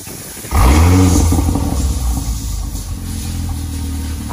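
Porsche Cayenne E3 fitted with a full Fi exhaust system fires up with a loud, close roar about half a second in, then settles into a deep, steady rumble.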